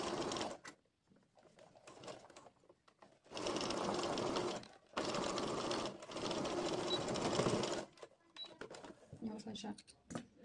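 A sewing machine stitches a dart in dress fabric in several long whirring runs separated by short pauses and handling noises, heard close, with a voice talking in between.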